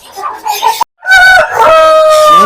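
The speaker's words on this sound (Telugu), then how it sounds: "మంచి ఫినిషింగ్ హెవీ బాడీ పుంజ్ అన్న" A heavy-bodied rooster at a poultry farm crows loudly and close by, one long strained call after a short clucking lead-in, with a brief pause between.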